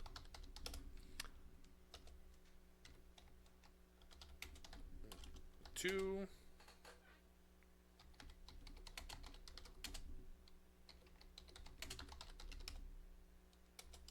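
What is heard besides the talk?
typing on a computer keyboard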